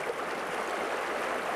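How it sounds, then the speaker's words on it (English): River water flows in a steady, continuous rush, close and even, with no voices or other sounds during a quiet autumn riverside scene. "I can only hear the water."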